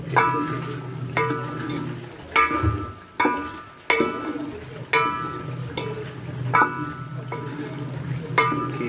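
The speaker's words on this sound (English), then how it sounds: "we will stir it we will keep it stirring" Apple gourd and chicken with turmeric and red chili cooking in a pan, a soft sizzle broken by regular sharp scrapes and knocks of a spoon against the pan roughly every second.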